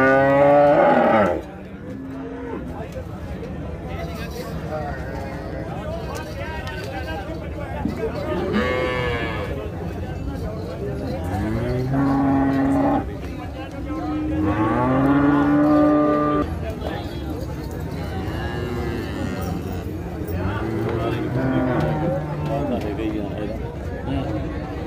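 Buffaloes lowing at a busy livestock market, several drawn-out moos rising over constant crowd chatter and voices nearby.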